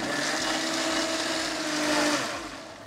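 Electric mixer grinder whirring as it blends boiled tomato and onion into paste in a resort cooking class, a loud steady motor drone with a slight pitch shift before winding down.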